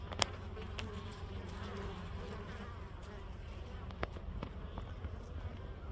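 Bees swarming around a wild bee tree beside a road, a steady low buzzing drone with occasional individual insects zipping past the listener, heard outdoors with faint background noise.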